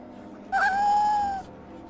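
A cat meows once in a vampire role-playing video game, a single drawn-out, rising then falling call of about a second, clear and fairly loud over a low game background hum.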